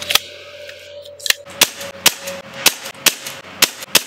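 Series of sharp, snappy Nerf blaster shots firing foam darts of varied cut lengths, about eight pops in a loose irregular rhythm, close and fairly loud over a faint steady hum.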